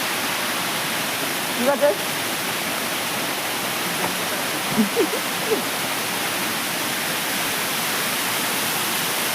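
A waterfall's steady, dense rush fills the air in an unbroken wash of noise, with a few faint voices briefly heard over it.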